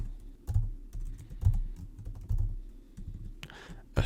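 Typing on a computer keyboard while entering code, a steady run of light clicks and key taps with a few heavier strokes, close and alone.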